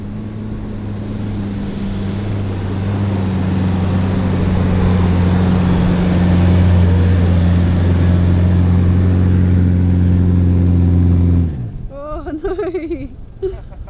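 A 4WD engine strains hard up a soft sand dune, revving with a loud, steady drone for about eleven seconds before cutting off abruptly, followed by a few short voice sounds.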